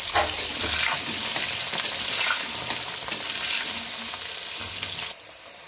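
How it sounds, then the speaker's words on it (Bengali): Potatoes frying in a home kitchen pan with whole tempering spices, a steady close sizzle with occasional stirring scrapes, with no voices. "ফোড়নের গন্ধ বেরোলে সাথে সাথে আলুটা দিয়ে আলুটা দিয়ে ভেজে নেব"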